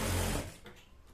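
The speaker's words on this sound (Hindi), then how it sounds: "और कट तक सीधा सिल लेंगे।" An electric sewing machine stitches a straight seam on a salwar in a short, loud whirring run that stops abruptly after less than half a second, leaving faint quiet room sound.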